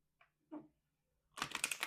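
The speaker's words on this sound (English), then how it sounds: "I pre-shuffle all these, but I just like to shuffle again." Tarot cards are shuffled by hand: two soft brief riffles, a pause, then a dense rapid flutter of cards, close and quiet with no talking.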